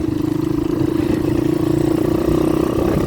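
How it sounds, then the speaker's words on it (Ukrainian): A Geon 190cc motorcycle engine runs in fifth gear at about 4000 rpm, giving a loud, steady droning hum with a rapid pulsing beat that holds evenly throughout. "П'ята передача, їдемо 37 кілометрів. 4 тисячі оборотів."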